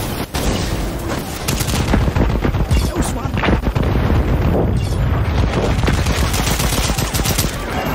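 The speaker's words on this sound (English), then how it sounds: "Grenade!" A grenade goes off amid rapid gunfire in a dinosaur shooter game, with dense bursts of shots and heavy booms packed close together, loud and continuous, over faint background voices.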